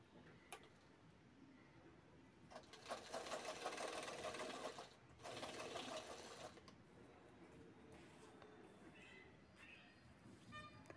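Sewing machine stitching a belt onto a handmade ladies' handbag, a steady mechanical run that swells louder in the middle, pauses briefly, then continues more quietly with faint ticking.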